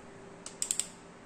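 Four quick, light ratchet clicks come close together while a bolt is tightened during assembly of a forged AP 2.0 turbo engine, set against a quiet background.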